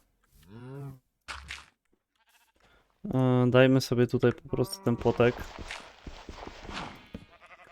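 Sheep bleating in a Minecraft game, a couple of short bleats at the start followed by a person talking over further sounds.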